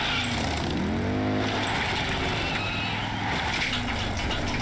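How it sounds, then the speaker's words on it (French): Motorcycle engine droning steadily in Metal Gear Solid 3, a continuous mid-level motor hum with a brief rising whine, heard alone without talk. "Essaye de pas cracher ta moto déjà."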